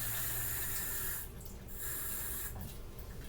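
Tap water runs into an empty taco seasoning packet at a kitchen sink, a steady splashing stream that briefly changes tone and dips as the packet fills, then carries on.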